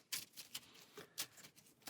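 Marvel Champions encounter deck cards being shuffled by hand, giving soft, quick riffling and patting bursts in an irregular rhythm, close and faint in an otherwise quiet room.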